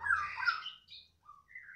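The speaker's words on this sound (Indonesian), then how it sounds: "Untuk kali ini stok murai batu Nias pakai ring hitam" A Nias white-rumped shama with a black leg ring, giving short bright squawky calls and clipped phrases in quick bursts, close and alone.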